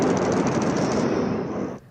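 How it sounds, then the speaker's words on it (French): Rapid, sustained bursts of gunfire or blasts at night in Gaza during airstrikes, loud and continuous for nearly two seconds before cutting off, with no voices. "Dans la nuit gazaoui, des explosions retentissent."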